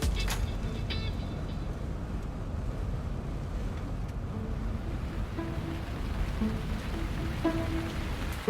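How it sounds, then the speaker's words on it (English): Steady broadband hiss of rain mixed with wind noise, continuous and fairly loud throughout, with a faint low rumble underneath. "It started raining."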